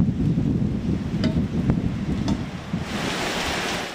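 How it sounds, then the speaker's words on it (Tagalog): Strong gusting wind from a super typhoon in Santa Ana, Cagayan, Philippines, roars steadily, buffeting the microphone, with a brief creak or two and a hissing rush toward the end. "marinig ang sipol na hangin ng Super Typhoon Nando"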